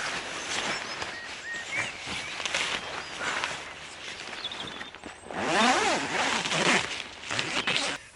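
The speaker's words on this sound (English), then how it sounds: "On this side you will find a zip running along here," The zip on a low-level wildlife photography hide, a Tragopan Hokki V2 blind, is pulled open in several rasping strokes of varying length, close by, with a louder, faster run of zipping toward the end.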